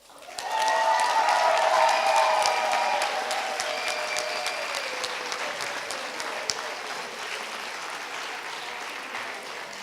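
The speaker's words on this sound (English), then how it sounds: "let's hear a big round of applause for Damien Barreau" A large crowd applauds at a cat fanciers' annual awards show, the clapping swelling quickly to a full, dense roar and then thinning gradually while still going strong, with some cheering mixed in and no one talking over it.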